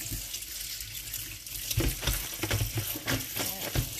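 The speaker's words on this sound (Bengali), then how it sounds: "ভালো করে ধুয়ে নিই।" Food is washed under running tap water in a kitchen sink, a steady rushing stream broken by splashes and uneven gurgles as hands move the food through the flow.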